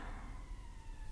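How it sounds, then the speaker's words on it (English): A faint siren wails in the distance, a thin rising and falling tone under low background rumble. "I can just hear a siren."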